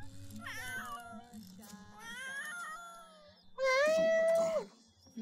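A pet cat meows and caterwauls in The Sims 3, several drawn-out cries with the loudest and closest near the end, over faint game background.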